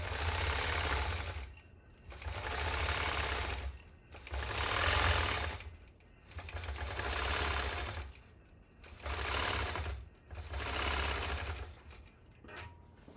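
A longarm quilting machine stitches in steady bursts of rapid mechanical chatter with a low motor hum, running in roughly one-second stretches separated by brief pauses, close and moderately quiet.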